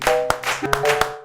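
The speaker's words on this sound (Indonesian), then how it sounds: "Sekarang kita tepuk tangan buat kita semua" Group of students clapping hands together at a vocational school gathering, a few sharp, spaced claps in a quick rhythm against a faint background hum.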